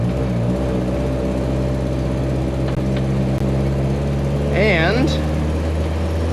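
The engine of a 1965 Land Rover Series IIA drones steadily at full throttle climbing a hill, a loud constant low rumble from the cabin, with a voice speaking over it briefly.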